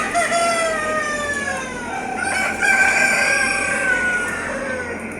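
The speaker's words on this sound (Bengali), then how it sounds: "এই যে দেখুন এখানে হাজার হাজার মুরগি, লক্ষ লক্ষ লক্ষ লক্ষ কোটি কোটি মুরগি" Thousands of chickens at a large poultry farm crow and cluck together, with long overlapping rooster calls rising and falling over a constant noisy hum of the flock, loud and close, with no speech.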